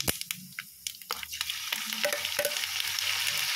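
Alamang, a shrimp paste, hits a hot pan with a burst of crackling, then settles into a steady sizzle and spatter with scattered pops and occasional stirring clatter, close and without voices.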